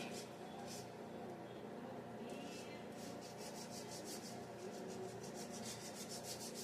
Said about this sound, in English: When zesting, make sure to use a zester like this